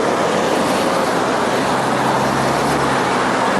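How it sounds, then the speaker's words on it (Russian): Heavy city traffic fills the street in Chisinau, with trolleybuses and buses rumbling past close by under a constant loud roar of engines and road noise, steady and unbroken throughout. "Троллейбусы, автобусы, шум. У нас вообще очень шумный какой-то транспорт."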